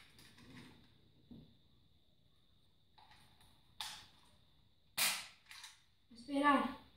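A homemade crossbow being fired: a few sharp, quiet snapping releases and mechanical clacks spaced out over several seconds in a quiet room, with a brief voice near the end.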